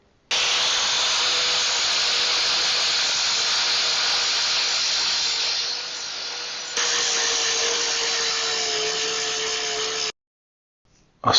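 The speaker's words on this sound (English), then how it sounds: "I'm going to be grinding off the steel stick and replacing it with JB Weld Original Cold" An abrasive grinder grinds JB Weld SteelStik epoxy off a repair, giving a loud, steady, harsh hissing whine for about ten seconds, with a brief shift in pitch midway, then stopping abruptly.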